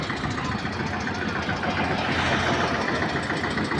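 A 1996-model tractor engine ticks over at a tractor market with a rough, slightly knocking idle, a continuous close mechanical rumble that holds an even level throughout.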